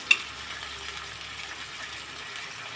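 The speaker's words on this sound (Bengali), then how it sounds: "সবগুলো মশলা এখন ভালো মতো একটু কষিয়ে নিতে হবে" Ground turmeric, chili, coriander powder and salt frying in a pan for a green papaya curry: a soft, steady sizzle runs throughout at low level, with one sharp clink near the start and no talking.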